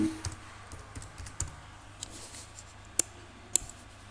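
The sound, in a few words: typing on a computer keyboard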